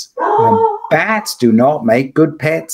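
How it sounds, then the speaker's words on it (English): A dog barks and howls at an Amazon delivery, long wavering howls and yips heard close and loud beneath someone talking. "Oh, that's my dog now responding to the Amazon delivery."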